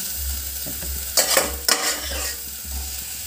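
Taro leaves and carrot stir-fry in a pan, a steady sizzle punctuated by two sharp scraping stirs of a utensil, close and loud with no talking.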